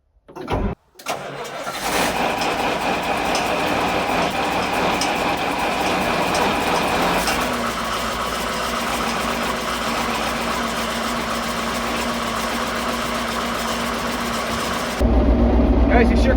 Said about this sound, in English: you sure can't beat the way an old Caterpillar starts